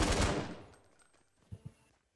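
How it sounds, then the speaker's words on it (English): A loud burst of Fortnite gunfire that quickly fades, then two short, sharp shots, close and punchy. "Gunshots."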